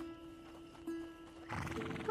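A horse neighs loudly and close in the video game A Plague Tale: Innocence, a shrill whinny over a steady tonal hum, with a faint clip-clop of hooves earlier.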